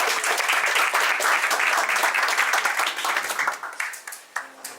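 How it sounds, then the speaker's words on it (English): An audience at a foundation event applauds warmly, thick close clapping that holds steady and then tapers off into a few scattered claps. "Let's give them a big round of applause."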